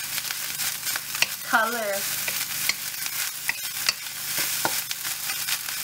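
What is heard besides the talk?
pork fried rice frying and stirring in pan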